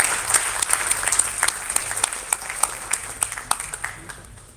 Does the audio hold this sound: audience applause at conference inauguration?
yes